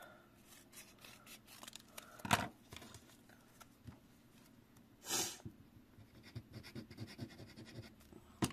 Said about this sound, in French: Le noir que je vais couper aussi.